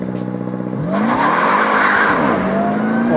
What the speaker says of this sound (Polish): Samochód w napędzie na 4 koła, traci trakcję przy launchu